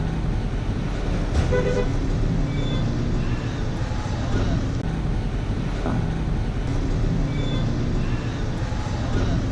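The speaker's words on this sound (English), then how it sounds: "Just on the bus going up to the volcano." A collectivo bus climbs a hill road toward a volcano, its engine and road noise a loud, constant rumble with wind buffeting the microphone throughout.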